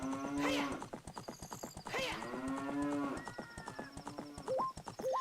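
Ocarina of Time: the cow in Link's house lets out two long, drawn-out moos in quick succession, loud and close, with a few bright game chimes and tones around and after them.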